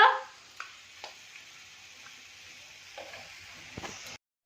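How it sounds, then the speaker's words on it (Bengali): Tomato chutney cooking in a pan gives off a soft, steady sizzling hiss with a few light clinks of stirring, quiet throughout, ending in an abrupt cut to silence. "আর এই যে টমেটো চাটনি হচ্ছে"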